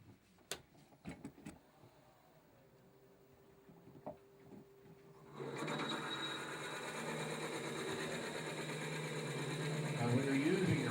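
A Forstner bit bores into wood with a steady whirring grind that starts partway through and keeps building, loud and continuous, after a few scattered clicks and knocks in a quiet workshop.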